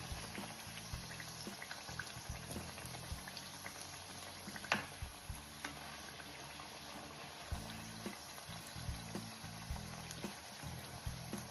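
Potato fenugreek puris deep frying in hot oil, a steady bubbling sizzle that runs throughout with small pops and crackles and a few brief louder clatters.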